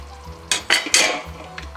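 A metal lid clinks and clatters a few times in quick succession as it is lifted off a pot of simmering goat meat rezala, close and crisp over a low kitchen background.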